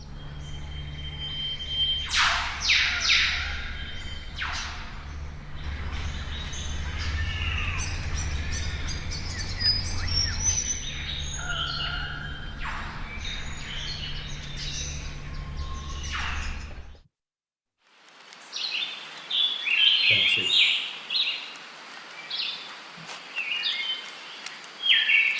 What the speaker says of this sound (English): because the birds sound so different